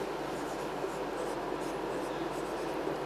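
A pen writes a note on paper, producing soft, steady scratching that runs throughout without pause. It is faint and heard alone.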